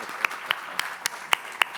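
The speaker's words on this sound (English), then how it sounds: "She definitely deserves a round of applause." An audience at an event claps sparsely: a thin round of applause with about six distinct, evenly spaced claps over a faint room hum.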